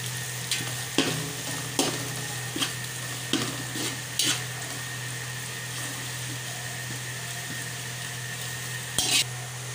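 Green chilies and lemon fry and get stirred in a pot of beef potli yakhni pulao: a steady, full sizzle runs throughout, broken by periodic scrapes and knocks of the spoon against the pan.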